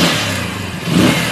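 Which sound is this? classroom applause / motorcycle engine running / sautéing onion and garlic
motorcycle engine running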